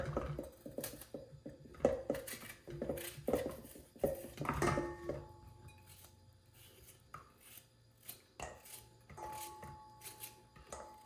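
Fresh coconut being cut into small pieces in a home kitchen, irregular knocks, scrapes and clinks of a knife and dishes, close and moderately loud, with quieter handling noises between.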